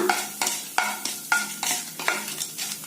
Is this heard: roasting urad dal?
yes